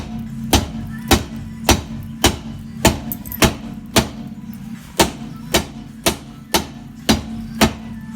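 Repeated metal hammer blows strike a rusty brake drum to loosen it, about a dozen sharp, evenly spaced clanks close by, with no talk between them.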